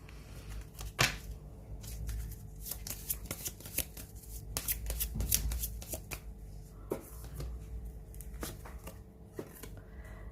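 Oracle cards are shuffled over and over for a tarot reading, giving a close, steady run of crisp riffling flicks and snaps with no talking.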